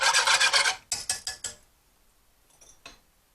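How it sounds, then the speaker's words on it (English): Milk chocolate being stirred into Mexican hot chocolate, a spoon rasping rhythmically against the pot in quick strokes, then a few slower scrapes and a faint clink before quiet. "we're going to melt that in as well. Stir, stir, stir."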